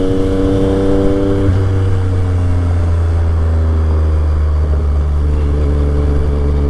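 A Yamaha XSR 900 engine drones loudly and steadily while being ridden, and its pitch shifts slightly as the throttle changes. The sound is close and continuous, with wind rush beneath it and no talking.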